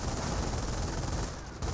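Gunfire from a garrisoned window in Company of Heroes, a dense, steady crackle of rapid shots rolling continuously and fairly loud, with a brief dip near the end.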